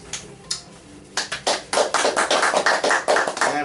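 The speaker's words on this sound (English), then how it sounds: "We need all the applause we can get" Scattered claps begin one at a time and then build into a brisk round of applause from a small group, close and fairly loud.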